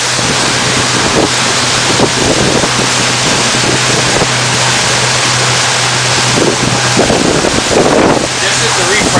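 A steady, loud rumble of a dive tour boat engine in the Bahamas mixed with rushing wind and water noise, continuous throughout with no clear pauses.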